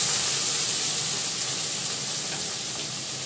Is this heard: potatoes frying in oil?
yes